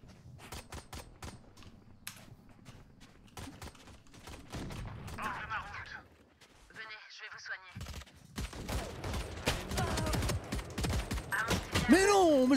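Valorant gunfire comes in bursts of rapid shots and single cracks, mixed with footsteps and ability effects, fairly close and loud, with a player talking over parts of it.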